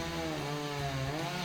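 A chainsaw run by a woman drones steadily at close range without a break, loud and continuous, with no talking.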